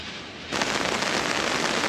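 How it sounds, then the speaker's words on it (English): Rain pours down outdoors during open-air cooking under an umbrella: a soft hiss suddenly swells into a dense, steady downpour that drums evenly on the surface, with no voices. "the rain is coming down"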